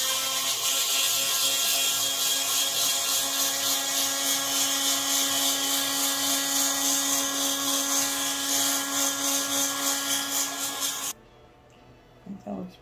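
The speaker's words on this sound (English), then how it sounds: "now we're gonna take our heat gun." A heat gun running on high heat over acrylic paint, a loud continuous whirring blow with a steady hum that cuts off abruptly near the end, leaving brief quiet handling sounds.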